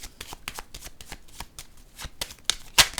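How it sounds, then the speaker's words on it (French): Tarot cards being handled and laid down, a close series of quick papery flicks and taps with irregular rhythm, ending in a sharper slap of a card set on the table, with no voices. "Attendez, je vais déposer une carte ici."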